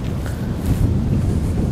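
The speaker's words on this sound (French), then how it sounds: "Il y a du vent, il y a du vent." Strong wind buffeting the microphone on a seaside golf links course, a continuous low rumbling roar with no talk.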